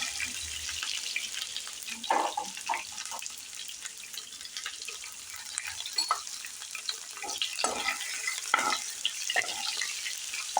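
Onions frying in hot oil with mustard seeds, cumin, dried red chillies and curry leaves, browning for a tomato cashew curry; a steady close sizzle with scattered stirring clicks and scrapes throughout.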